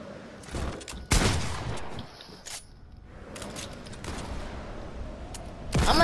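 Rapid Desert Eagle pistol shots in a first-person shooter video game crack out in sharp bursts, several loud reports in quick succession with brief gaps between clusters.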